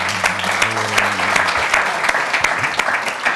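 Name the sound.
applause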